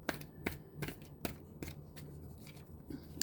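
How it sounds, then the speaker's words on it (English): Tarot cards being shuffled in a quick series of crisp riffles and slaps, close up and fairly quiet, with no talking. "So I give the cards another couple shuffles."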